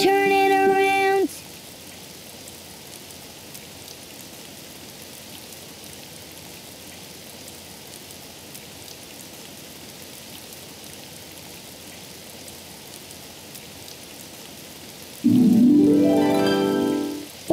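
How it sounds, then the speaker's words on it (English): Steady rain hissing throughout in a Daniel Tiger cartoon, an even wash of falling water, with brief louder sounds at the very start and end. "it's raining outside"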